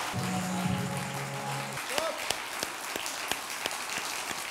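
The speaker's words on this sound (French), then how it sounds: "Vous l'applaudissez très fort." At a real estate agency's sixth anniversary party, during an award for best recruiter, scattered individual claps ring out at a moderate distance in a roomy space. A brief sustained tone precedes the claps, with faint crowd murmur underneath.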